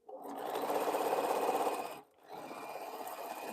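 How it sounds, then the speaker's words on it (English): A sewing machine stitches a seam across quilt pieces, running in a steady close whir for about two seconds, stopping briefly, then starting again at a slightly lower level. "So I got my first set of 8 sewed with this seam."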